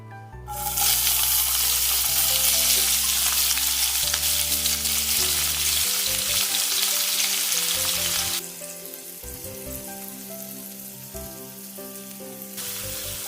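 Finely chopped onions fry in a hot pan with a loud, steady sizzle and crackle that eases slightly partway through, with occasional stirring and no talking.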